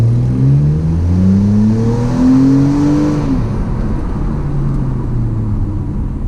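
A BMW 650i V8 roars at full throttle, its engine note climbing steeply in pitch through the revs, then dropping sharply at a gear change before pulling again with a loud, steady drone.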